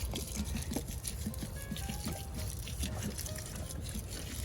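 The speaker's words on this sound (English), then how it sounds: "I'm still going to put some more water on here to moisten the new soil" Water poured from a container onto fresh garden soil in a pot, a continuous trickling and splashing pour with small drips, heard close up with no talk over it.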